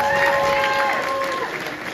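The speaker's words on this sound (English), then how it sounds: "Round of applause, please." Brief applause and cheering from the crowd at a UKDFBA bodybuilding show, a loud dense burst of clapping with a short whistle or shout over it that eases off within two seconds.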